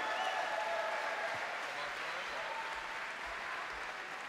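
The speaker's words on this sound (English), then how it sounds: "let's have a round of applause for these 2 fighters" Steady applause from the crowd at a heavyweight kickboxing event, sustained through the whole stretch, with faint crowd noise underneath.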